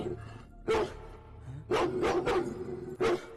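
A German Shepherd barking in short loud bursts: a single bark, then a quick run of three, then another lone bark, fairly close with quiet gaps between.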